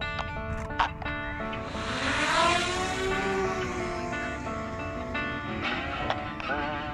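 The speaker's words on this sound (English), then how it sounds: "Let me throw the drone up." A drone launched over a spring bass-fishing spot gives off a steady, multi-toned motor whine that rises in pitch as it climbs, then holds a sustained buzz with small shifts. Brief clicks and handling knocks sit close by.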